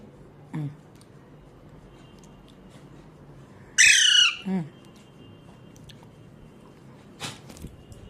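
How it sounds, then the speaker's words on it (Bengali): An Alexandrine parrot lets out a loud, harsh burst of squawks near the middle, followed by a shorter squawk and a brief sharp call later, over a quiet indoor background. "কত জোরে চিল্লাচ্ছ"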